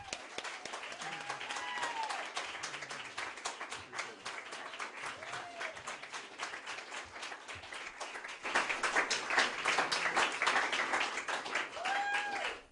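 An audience applauds as Dr. Andrew Wakefield is introduced for a talk, a sustained, somewhat distant patter of many hands that grows louder toward the end, with faint murmurs and whoops underneath.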